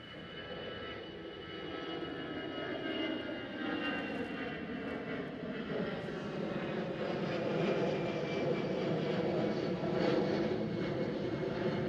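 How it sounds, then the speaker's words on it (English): An easyJet Airbus A320 jet at Schiphol Amsterdam passes with a sustained engine roar that swells gradually, carrying a descending whine and shifting tonal bands, with no speech. "Right over here, we do have an EasyJet."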